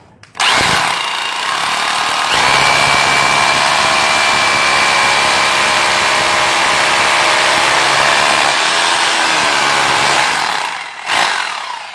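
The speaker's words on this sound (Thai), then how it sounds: "เดี๋ยวเราจะลองเจาะพื้นหน้าบ้านดูครับ" An Enzo 2-26 rotary hammer drill bores into a concrete floor in front of a house, a loud, steady hammering roar that runs for about nine seconds after a brief start, then stops abruptly.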